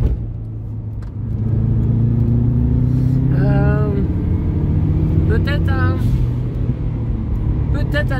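A Subaru Impreza turbo drives hard and accelerates, its loud engine drone rising steadily in pitch across the run, with a voice briefly exclaiming over the engine.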